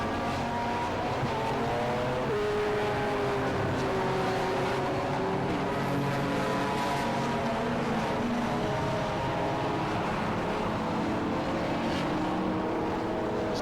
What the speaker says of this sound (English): listen to the incredible sound of these beautiful cars